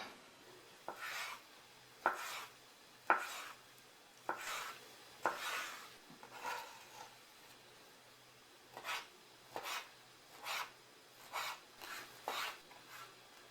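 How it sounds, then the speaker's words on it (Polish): A knife dices two dried herring fillets into cubes on a board, producing close, quiet, irregular bursts of soft cutting strokes with short pauses between them and no voices. "Teraz takie dwa płaty pokroję w kostkę."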